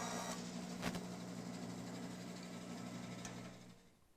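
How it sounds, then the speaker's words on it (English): A bandsaw coasting down after finishing a cut, a steady motor whine with a low mechanical hum that fades away as the blade slows to a stop, close by. "I had to wait for the bandsaw to stop"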